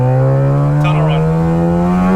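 A Mazda RX3 with a 13B rotary engine revs hard inside a tunnel, its loud, steady, buzzing exhaust note climbing in pitch throughout as the close, echoing engine sound fills the space.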